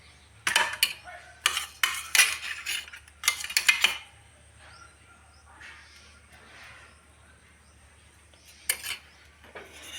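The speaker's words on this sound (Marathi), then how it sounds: "हे बघा हे दही फेटून घेणार आहे" A whisk clatters rapidly against a metal pot while beating yogurt for kadhi in short bursts, then quiet stretches with faint kitchen noise and one more brief burst near the end.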